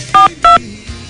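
A telephone number being dialed: two distinct touch-tone beeps, evenly spaced and clear, followed by a faint soft thump.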